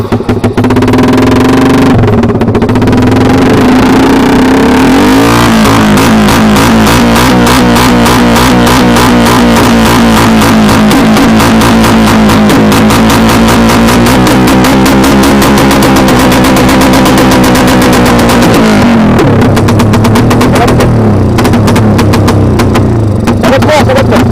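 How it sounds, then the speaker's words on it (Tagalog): A loud motorcycle engine revs and roars steadily for about fifteen seconds, its pitch rising and wavering, then drops back toward idle. "si Jericho, yung owner ng motor na to, na iparinig naman sana"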